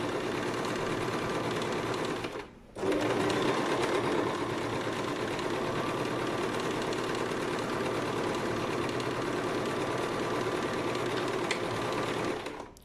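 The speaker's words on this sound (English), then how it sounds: "Okay, so I'm gonna start sewing." A sewing machine stitches a seam with a steady, rapid mechanical whir. It stops briefly near the start for a reverse stitch, then runs continuously, close and even, with no talking.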